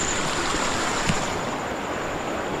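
A Konkan river flows in a steady, even rush of water that fills the whole stretch at a moderate level, with a faint high whine running constantly beneath it.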